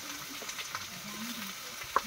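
Turmeric powder is stirred into food frying in a pan, producing a low continuous sizzle with light scraping and a single small tap near the end.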